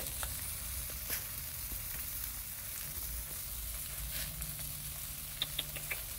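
Drum bass fish grilling over heat gives off a steady, moderately loud sizzle and crackle. Small pops appear near the end.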